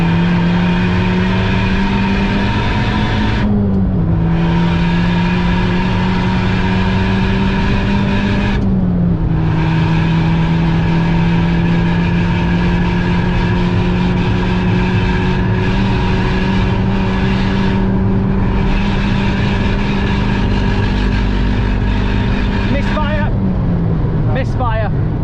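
A Volkswagen Polo WRC rally car engine holds a loud, sustained drone through a lap, with its pitch dipping briefly at a few gear changes before climbing and steadying again.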